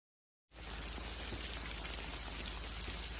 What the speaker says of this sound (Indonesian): saat Dong-soo berkendara sendiri di tengah hujan yang sangat lebat